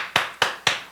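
Three sharp, evenly spaced claps ring out loud and close, each a crisp burst with a short decay, from a congregation at a Wednesday church service.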